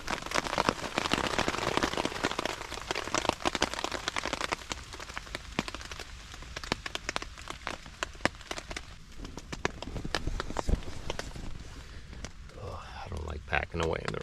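Steady rain patters on a hot tent throughout on an autumn night, with scattered louder drops tapping close by.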